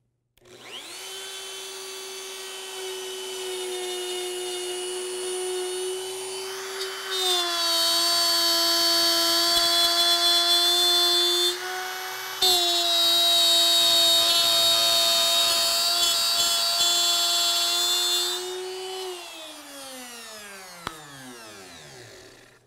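A plunge router cuts into a wooden board with a loud, steady high-pitched whine that spins up, shifts as it bites into the wood, then winds down as the motor is switched off.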